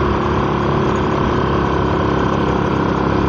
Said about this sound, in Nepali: म बाइक चलाउँदैछु